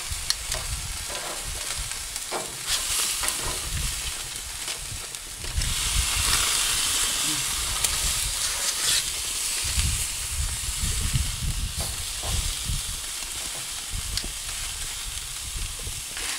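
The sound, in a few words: steaks sizzling on a barbecue grill after being flipped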